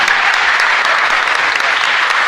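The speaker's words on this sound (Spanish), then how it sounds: "Fuerte aplauso para ellos." Congregation applause during a Catholic mass at a parish church in Asunción, a loud, dense, continuous burst of clapping from many hands filling the space without talk.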